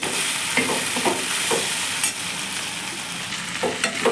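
Okra (bhindi) frying on high heat in a pan, a dense, steady sizzle with a spatula scraping and stirring through it in repeated strokes, loud and close with no voices.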